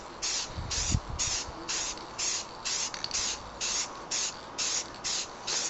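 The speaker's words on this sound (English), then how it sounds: "Notice I'm not starting the spray on the helmet," A spray paint can sprays silver onto a Boba Fett helmet in a steady series of short, even hissing bursts with brief pauses between them, close and fairly quiet.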